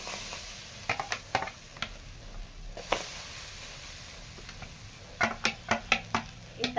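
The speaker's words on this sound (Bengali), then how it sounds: "আমি এখন তালের মাড়িটা দিয়ে দিচ্ছি কড়াই।" Palm fruit pulp cooking in a wok over a stove, a soft low sizzle running underneath while a utensil scrapes and taps the pan in short clusters of sharp clicks near the start and the end.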